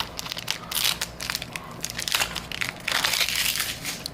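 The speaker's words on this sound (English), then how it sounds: "Let me just open some packs." Magic: The Gathering Zendikar Rising booster packs are torn open, with close, continuous crinkling and crackling of foil wrappers in short irregular bursts and no voices.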